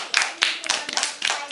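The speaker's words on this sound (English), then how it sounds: "Can we give a big round of applause?" A small audience claps after a presentation at a drawing class event, giving a short burst of scattered, uneven hand claps close by that swell and fade over a moment.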